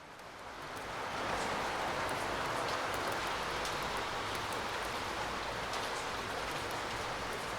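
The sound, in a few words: rain in a visual novel video game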